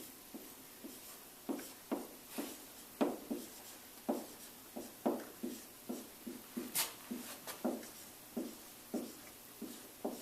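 Handwritten notes go down in a steady series of soft scratching pen strokes, about two per second, quiet and close with no one talking.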